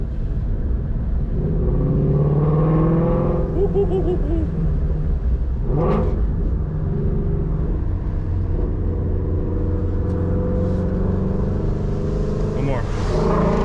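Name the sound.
2019 Ford Mustang Shelby GT350 exhaust revving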